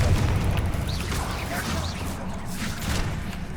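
Spell combat in Hogwarts Legacy with a Confringo blast, heavy booming rumble and crashing impacts layered with whooshing magic effects, loud and continuous, with a voice briefly calling out over it.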